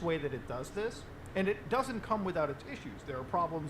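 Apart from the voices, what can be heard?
No everyday noise stands out behind the speech.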